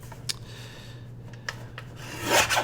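A paper trimmer slices through paper in short scraping strokes, with a couple of faint clicks early on and a louder, rougher cut near the end, close and alone without talk.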